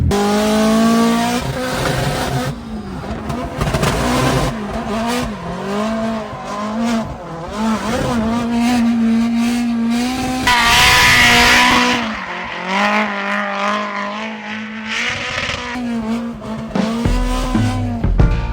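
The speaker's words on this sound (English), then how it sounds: "I've never been in a car going backwards so fast in my life." A drift car's engine roars continuously at high revs while tires squeal and skid at speed on a drift track in Japan, loud and sustained throughout.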